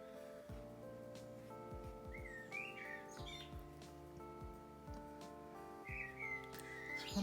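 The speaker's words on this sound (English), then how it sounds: "It's funny painting birds and you can hear the birds." Several birds chirp and whistle in short bursts over a steady background of sustained tones and soft repeated thumps.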